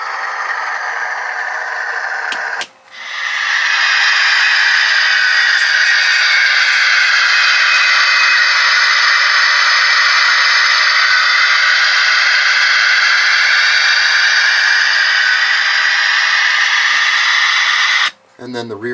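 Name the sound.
Blackstone steam locomotive sound decoder, treble-heavy chuff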